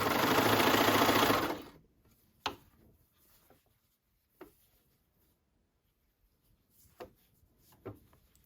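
A sewing machine stitches a curved shirt hem in a dense, rapid mechanical whir that stops after about a second and a half, followed by quiet handling with scattered soft clicks and taps of fabric and machine.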